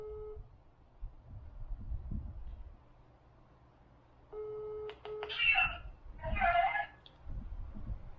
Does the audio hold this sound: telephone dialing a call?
yes